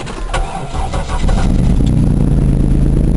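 A used car with an exhaust leak cranks and fires up, the engine catching after a second of starter whir and settling into a loud, rough, steady idle close by.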